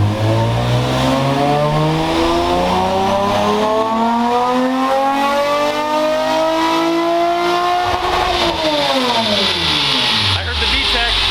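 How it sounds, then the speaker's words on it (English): A modified Honda engine accelerates hard with VTEC engaging, a loud rising howl climbing in pitch for several seconds before dropping sharply on a shift, with voices talking over the engine noise. "I heard the VTEC."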